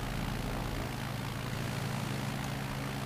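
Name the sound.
Cirrus SR22 propeller engine in Microsoft Flight Simulator video game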